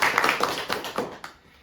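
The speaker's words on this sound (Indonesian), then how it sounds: "Kita beri aplaus untuk teman" A school class claps for a classmate in a short burst of applause from several pairs of hands, close and lively, fading out after about a second.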